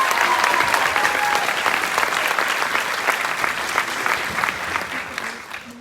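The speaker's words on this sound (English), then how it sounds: "Give our Valley Honor Band folks a round of applause." Audience applause for students of a middle and high school honor band at a winter concert, a dense, steady wash of many hands clapping that holds loud throughout and tapers slightly at the very end.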